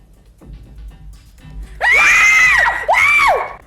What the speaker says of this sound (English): There is definitely something authentic and quite terrifying about the way these 2 girls scream.